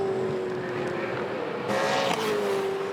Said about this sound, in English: The energy dispensed out of these cars as they find the right number of revs and throttle position.